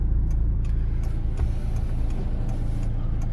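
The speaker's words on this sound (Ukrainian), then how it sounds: "Там їде автомобіль вантажний" A cargo truck drives along a city street on a driving-test route, a steady low engine rumble with faint passing traffic noise continuing throughout, moderately loud and without speech.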